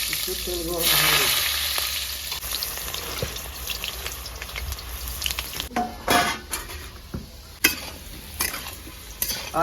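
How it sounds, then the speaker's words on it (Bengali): Potatoes sizzle as they fry in hot oil, a continuous close crackle broken by stirring and the clatter of a spatula against the pan, with little talk. "আলুটা ভাজা হয়ে গেছে প্রায় আমার।"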